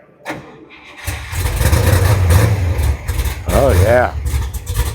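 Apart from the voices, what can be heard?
1967 426 Hemi Coronet 440 engine starting and idling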